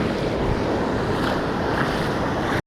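Ocean waves crash onto a beach at high tide near a sandbar, a loud, steady roar of surf and wind filling the whole moment with no talking.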